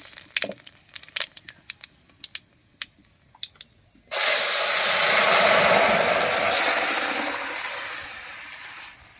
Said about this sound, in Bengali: ঝোলটা ভাজা হয়ে গেছে এবার নামিয়ে রাখা তরকারিটা দেবে